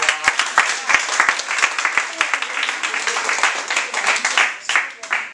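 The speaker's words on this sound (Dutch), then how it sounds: "Groot applaus ook voor jullie." Audience applause at the close of the Heel Altena Bakt 2018 baking-show finale: dense, steady clapping from a crowd filling the whole stretch, with sharp individual claps standing out near the front.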